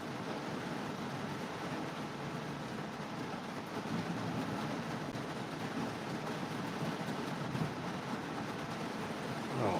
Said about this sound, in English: Oh, it is really pouring out,